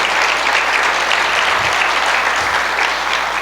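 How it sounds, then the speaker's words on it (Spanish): A church congregation breaks into loud, sustained applause, a thick continuous roar of clapping with a couple of low thumps underneath. "Dale un fuerte aplauso al Señor."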